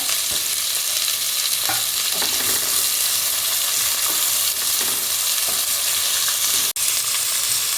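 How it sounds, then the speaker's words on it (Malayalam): Sliced onion and green chillies sauté in hot oil inside a pressure cooker, giving a steady, close sizzling hiss with occasional scraping stirs, heard alone without any talking. "ഇനി നമുക്ക് സവോള പച്ചമുളക് രണ്ടും കൂടി ഇട്ട് കൊടുക്കാം കേട്ടോ സവോള ഒന്ന് വഴന്നു വരട്ടെ"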